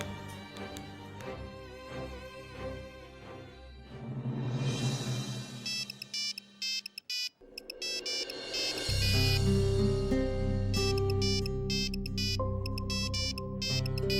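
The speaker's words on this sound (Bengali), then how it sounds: "নিখিল ফোন করছে।" A phone ringtone plays as a melodic electronic tune, fairly loud, with the music growing fuller and steadier toward the end.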